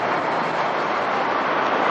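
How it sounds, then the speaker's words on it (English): A steam train from a railroad museum rolls past as a loud, steady broadband rumble and hiss, with no clear voices over it. "There goes the steam train from the Railroad Museum, just passing by"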